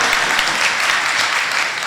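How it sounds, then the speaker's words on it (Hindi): Loud, dense applause from an audience at the Jashn-e-Adab 2019 literary event, a brief sustained burst of clapping with no voices over it. "ज़ोरदार तालियां आपकी."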